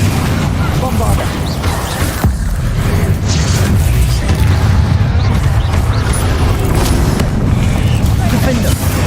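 Bombarda explosion spell cast in the video game Hogwarts Legacy, a loud, dense run of booming blasts and crashes layered over constant combat noise, with a voice talking throughout.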